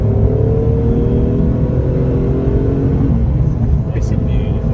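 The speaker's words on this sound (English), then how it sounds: "I hope you enjoyed the sound of the Clio V6" A Renault Clio V6 engine runs loud and close with a steady low droning rumble that swells slightly as it revs, continuous throughout with no pauses.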